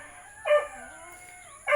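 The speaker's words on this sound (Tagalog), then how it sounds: "nag-iingay ng mga aso" Dogs on a small farm give a couple of short yelping barks, one early and one at the end, fairly close, with quiet background between and no talk.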